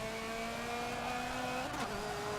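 Race car engine droning steadily through a lap in Forza, a sustained mid-pitched hum with a brief shift in tone near the end, moderately quiet and alone.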